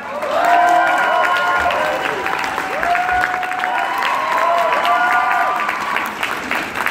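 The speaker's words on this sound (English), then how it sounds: "If you'd like to give a huge round of applause for Mike." Sustained applause from a crowd at an anime convention's closing ceremony fills the room, steady and loud, with voices and cheering mixed in throughout.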